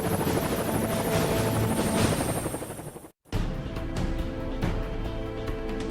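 Marine One, the green and white presidential helicopter flown by the Marines, passes with a loud, steady rotor roar and engine whine that cuts out briefly, then returns slightly thinner with regular rotor thumps.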